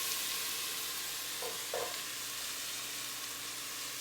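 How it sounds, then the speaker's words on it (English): Steady broadband sizzling from Bolognese meat sauce in a hot pan, constant and fairly loud throughout, with a couple of brief clinks partway through. "You're gonna hear that the sizzling is gonna start easing off."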